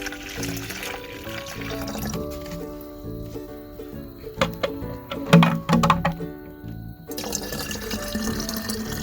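Liquid poured at the base of tomato plants in a kitchen garden, with a steady trickling stream under background music and a few splashy thunks in the middle.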